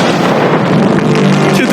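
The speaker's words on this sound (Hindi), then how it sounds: "ये 5 टैंक्स पैसों पर निशाना लगाकर 20 राउंड फायर करने वाले हैं" A tank firing a shot at a target, a deep, loud blast filling the whole stretch with dense rumbling noise and no clear separate peaks, with a possible voice underneath.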